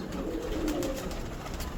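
Antique pigeons kept by a fancier make a soft, rolling coo that runs unbroken through the moment, close but fairly quiet against a steady background hiss, with no voices.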